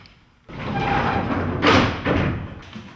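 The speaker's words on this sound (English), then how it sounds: "when I hear action, I can pull that and the doors open" Large main doors on a science fiction film set are pulled open by a rig, producing a broad rumbling slide with a heavy thud midway and a second surge of noise before settling, loud and close.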